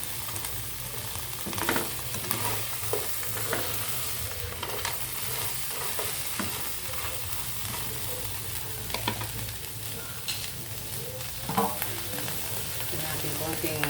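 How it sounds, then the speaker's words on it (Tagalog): Small crabs (talangka) are sautéed with garlic in a pan, producing a steady close sizzle broken by repeated stirring scrapes and clacks, with a faint low hum underneath. "Ayan, talangka. Ayan, ginisa natin sa bawang."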